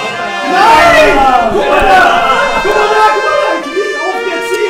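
Cheering crowd from the Split Second Velocity racing game after a race win, a loud, steady roar of many voices with excited shouts rising and falling throughout.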